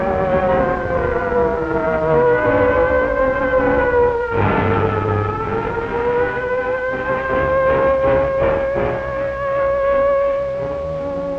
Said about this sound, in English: the largest single siren system in the world sets up its warning wail